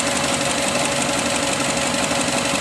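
A Subaru engine runs with a steady, loud drone and rapid exhaust pulsing, heard up close and alone throughout, with no talking.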